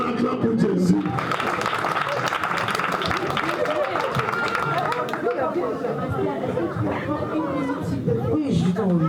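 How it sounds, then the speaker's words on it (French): A church congregation claps and acclaims for Jesus in a steady, loud wash of crowd noise, cheering voices and chatter that carries on throughout. "On acclame pour Jésus."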